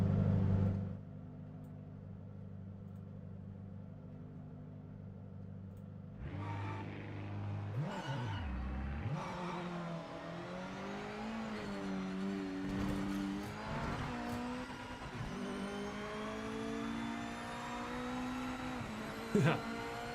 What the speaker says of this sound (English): This braking noise, it's in every car the same.